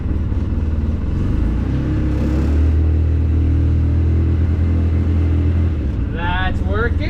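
The engine of a Polaris RZR 800 S side-by-side idles and runs during a test drive, a loud, steady low rumble close by with a slight rise in revs, a few higher squeaks near the end.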